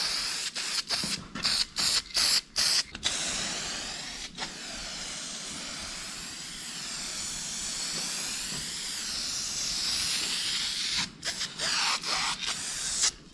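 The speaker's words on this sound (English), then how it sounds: "I'm gonna start hitting it with my vinyl fabric spray" Short bursts of aerosol vinyl fabric dye spray hiss in quick succession on a classic car interior, then one long continuous spray, followed by more brief spurts, close and steady.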